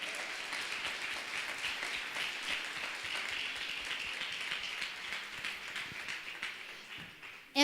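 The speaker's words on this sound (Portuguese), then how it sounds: "que as palmas louvem ao nosso Senhor Jesus" A church congregation applauds during a family worship service, a steady, moderately distant wash of clapping that holds for several seconds, tapers off, and ends with a sharp close knock.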